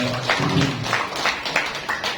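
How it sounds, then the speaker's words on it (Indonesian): Scattered applause breaks out at an Islamic boarding school Quran memorisation graduation, with a few irregular claps close by against the hum of a hall. "Tepuk tangan."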